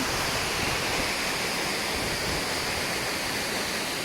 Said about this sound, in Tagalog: Yan, guys, ang falls dito.